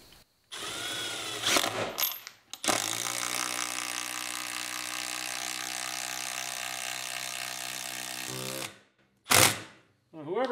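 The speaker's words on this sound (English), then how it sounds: "Whoever says the 12-volt Milwaukee won't do timber screws" A 12-volt Milwaukee driver sinks long timber screws into an 8x8 post. There is one long, loud, strained run of the motor, bracketed by short clicking bursts of the clutch before and after, heard up close.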